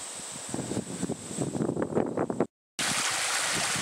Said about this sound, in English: This is a spring. It pours right out of the side of the hill here.